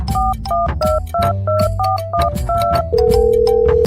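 A string of telephone keypad tones as a number is dialed, short two-pitch beeps in a quick irregular sequence, ending in a longer sustained tone, loud and close over low background music.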